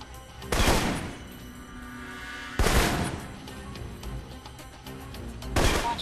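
Assault rifle fire in the video game Alpha Protocol comes as three loud, punchy bursts spaced a couple of seconds apart over a low, steady game background.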